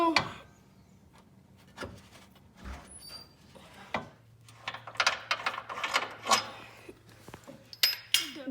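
Metallic clinks and scraping clicks from a ratchet working loose the lower control arm bolts on a Honda Civic during a bushing swap, irregular and close, with a low hum underneath and no voices.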